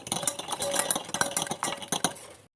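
Two eggs and three spoonfuls of sugar are beaten hard in a mixing bowl, giving quick, rhythmic clinks and scrapes of a whisk against the bowl, close and brisk, stopping abruptly at the end.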